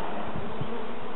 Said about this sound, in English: If I just shake off these bees